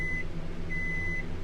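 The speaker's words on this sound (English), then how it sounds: "my microwave's going to beep for a second" A home microwave oven beeps twice, two steady high electronic tones, the second longer, over a low background hum, fairly close with no talking.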